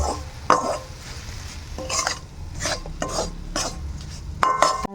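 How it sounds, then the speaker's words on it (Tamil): Raagi flour and rava toast and cook in oil in a pan for upma, a soft sizzle broken by several scraping stirs of a spoon against the pan, close and fairly quiet. "ஸோ ரெண்டுமே மிக்ஸ் பண்ணி ஆட் பண்ணிவிட்டு இந்த எண்ணெயிலேயே நல்லா குக் பண்ணிக்கோங்க"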